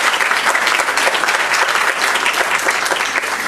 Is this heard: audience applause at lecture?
yes